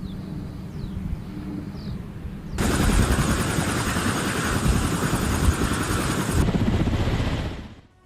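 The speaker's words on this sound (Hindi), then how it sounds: "रूसी लड़ाकू हेलीकॉप्टर कर रहे हैं हमला" Russian combat helicopters on an attack run. A quiet stretch suddenly gives way to a loud, close, chopping rotor roar with a dense engine whine, which holds steady for several seconds and then starts to fade.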